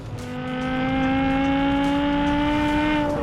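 2005 BMW M5 E60 V10 engine revs up close, its pitch rising smoothly and holding a loud, sustained howl for a few seconds with no one speaking.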